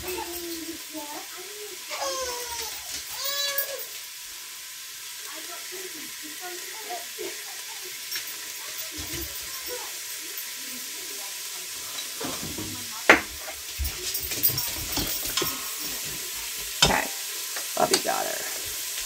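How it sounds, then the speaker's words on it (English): Ham sizzling and frying in a pot on the stove for a split pea and ham soup, a steady soft crackle running under the whole stretch with occasional stirring clicks, while a person talks in the first part. "do you hear it sizzle?"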